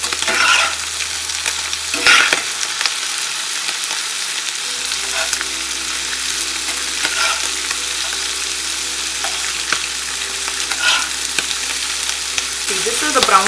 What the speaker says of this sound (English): To this I'm adding all my liver. You want to cook it at a high temperature.